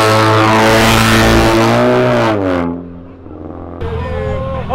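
A car leaves a charity car event with a loud, droning engine whose pitch sweeps upward as it revs and pulls away. After a brief dip, another engine note rises close by.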